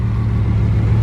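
A Bugatti Veyron supercar pulls away, its engine a steady, loud, low rumble throughout with no break.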